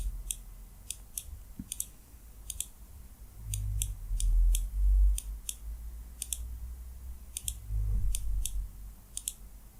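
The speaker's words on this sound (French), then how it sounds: "On va cliquer ici sur l'icône." Computer mouse clicks on an icon, sounding as sharp, crisp single and double clicks spread irregularly across the clip over a low background rumble, close and distinct.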